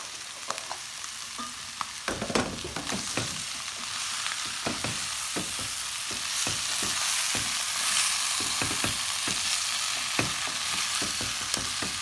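Chunks of butternut and carrot fry in a crowded pan for a vegan curry. A steady sizzle runs throughout, and the spoon scrapes and knocks against the pan many times as the vegetables are stirred.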